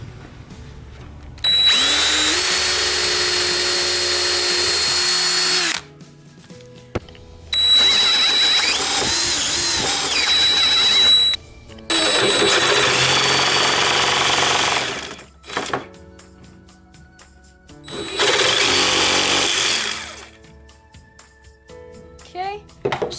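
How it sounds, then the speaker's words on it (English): Several long bursts of loud power drill and jigsaw cutting wood, a buzzing saw-like whine separated by short quiet gaps, close up. "Now I need to drill a hole for that one and cut it out with the jigsaw."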